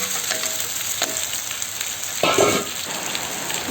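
A kilo of mussels hits a hot pan with lemongrass, sizzling steadily with a brief louder burst of frying as they are stirred, close and without talk.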